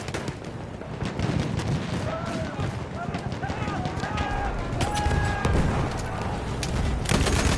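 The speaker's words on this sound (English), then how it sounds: "Ich werfe eine Granate." Grenade blasts and gunfire in a German-language war video game, a dense continuous barrage of loud shots and explosions layered over steady battle noise.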